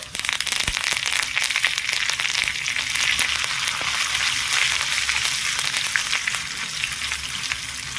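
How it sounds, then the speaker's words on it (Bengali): Dry chilli, panch phoron, ginger, green chilli and curry leaves crackling in hot oil, a loud dense sizzle with popping spatters running throughout, no speech. "ভালো করে তেল গরম হয়ে গেলে শুকনো লঙ্কার পাঁচ ফোড়নটা দিয়ে দিচ্ছি আগে যে থেতো করে রেখেছিলাম আর দিয়ে দিচ্ছি আদা কাঁচা লঙ্কা একটু কারি পাতা"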